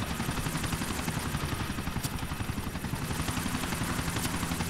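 A helicopter comes in to land in GTA IV: The Ballad of Gay Tony, its rotor chopping steadily in a continuous whirring drone at moderate volume with no one talking.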